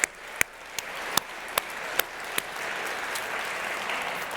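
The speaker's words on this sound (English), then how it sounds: "I want to give one last big round of applause to all of y'all" An audience at a game jam awards ceremony claps in a sustained round of applause, fairly soft and even, with a few sharp louder claps standing out near the start.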